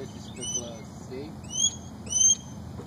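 Ospreys calling while hunting fish, with a few short high whistled calls in quick bursts, moderately close, over steady outdoor background noise.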